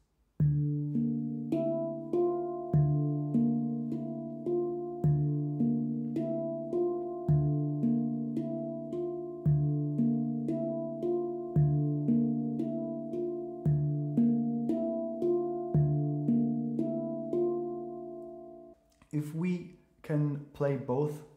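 A handpan plays a slow meditative pattern, alternating the central ding with a tone field in steady, evenly spaced ringing strokes with long sustain, close and clear, before the music stops and a voice briefly speaks.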